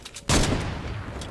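Gunfire in the video game Fortnite, a sudden loud burst of shots erupting after a quieter moment, dense and sustained over a brief stretch.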